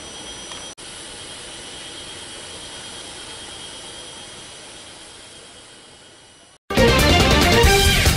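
A presidential helicopter departs for an airport with a steady, loud turbine whine and rotor roar that slowly fades over several seconds before a sudden cut to music.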